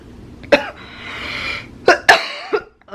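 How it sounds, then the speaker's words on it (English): Several sharp coughs close up from a lingering cough of two to three months: one hack, a pause with a breathy wheeze, then two more coughs in quick succession and a smaller one. "I've had this cough the end of December, beginning of January"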